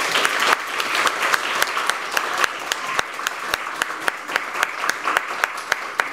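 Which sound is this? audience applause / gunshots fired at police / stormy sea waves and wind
audience applause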